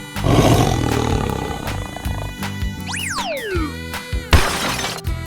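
A tiger roars loudly in a 3D animal slide video game, the growl rising amid game effects: swooping whistles, a crash-like shatter burst and busy music beneath, all close and dense.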